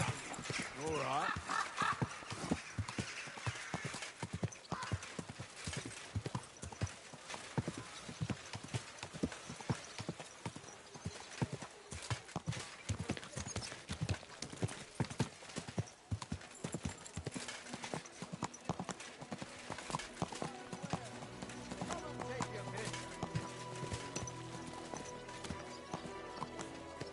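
Horse hooves clip-clopping in Kingdom Come: Deliverance 2, a steady rapid stream of hoof beats running throughout with occasional snorts, under game music and a voice speaking.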